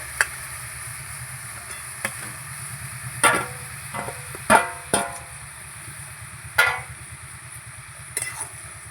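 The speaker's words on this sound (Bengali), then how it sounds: "কাতলা মাছের মাথা দিয়ে একবারে আবার কষাবো ভালো করে নেড়ে চেড়ে নেবো" Catla fish head stir-fried with cabbage and spices, a faint low sizzle under a spatula scraping and knocking against the pan in irregular sharp clinks, close by, with no talking.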